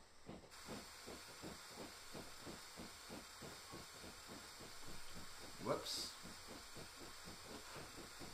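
A steam locomotive in a train simulator game lets out a steady, continuous hiss over a fast rhythmic chuffing beat, with a brief spoken exclamation partway through.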